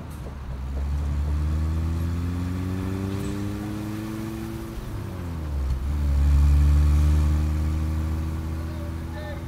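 Car engines rev in a film car chase, a near, loud drone whose pitch climbs and falls in long sweeps, swelling in a heavier surge near the end.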